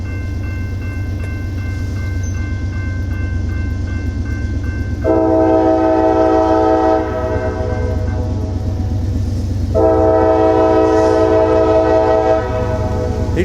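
Freight train M513 rumbles past with a single locomotive, a heavy low engine drone under two long, loud multi-tone horn blasts separated by a brief pause.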